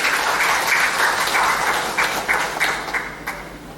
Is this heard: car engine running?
no